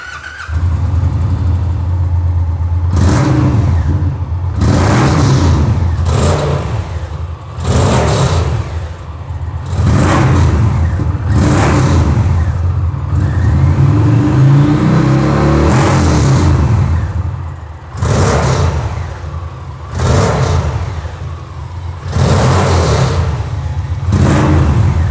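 Indian Challenger motorcycle fitted with new mufflers, loud and close, holding a deep idle punctuated by repeated throttle blips and rising revs throughout.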